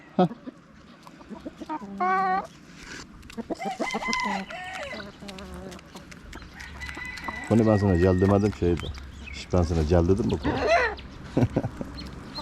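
Chickens clucking and crowing inside a coop, several short loud calls close by, heard among a man's spoken remarks.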